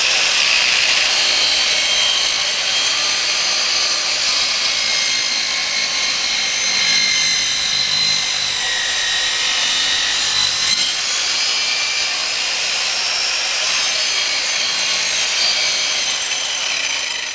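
A saw cuts steadily through a natural wood pole, set about 1/8 inch off the bottom, giving a continuous loud rasping, grinding drone that holds for the whole stretch with no talking.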